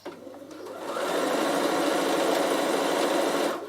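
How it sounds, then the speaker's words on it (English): A Bernina sewing machine runs steadily as it stitches fabric onto cotton wadding, a close, continuous mechanical whir that picks up speed after a brief start and stops near the end. "I'll simply stitch it straight on to my piece of wadding"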